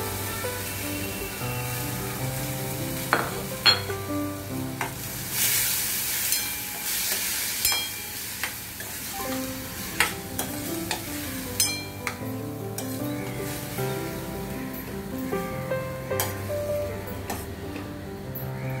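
Chopped birde (field bean sprouts) for vaal bhaji stir and sizzle softly in a pan, with a few sharp spoon clinks, all under steady background music.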